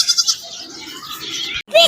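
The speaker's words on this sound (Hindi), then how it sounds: "ये बकरी का बच्चा।" A young goat kid bleats at close range on a village lane, giving a wavering, nasal cry that runs most of the moment before a short pause and a second sharper bleat, with people talking nearby.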